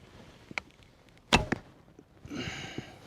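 An arrow is shot from a short Turkish bow, giving a sharp crack as the string releases, then a brief whoosh and a duller impact a moment later; a couple of faint clicks surround it.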